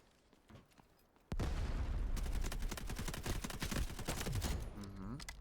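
Bizon submachine gun fire in the Delta Force video game: after a few faint taps, a loud, sustained stream of rapid automatic shots fills several seconds, with a short sliding electronic tone near the end.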